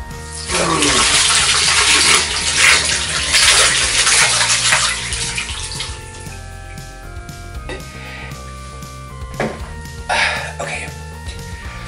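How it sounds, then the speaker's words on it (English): Water from a full bowl dumped over a person's head, a loud broad rushing splash and pour that runs for several seconds then trails into drips and smaller splashes, with a voice speaking over parts of it. "I'm going to dunk this entire bowl of water on my head and see what happens anyways"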